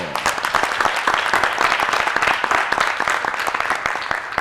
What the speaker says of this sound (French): Et on s'applaudit bien fort.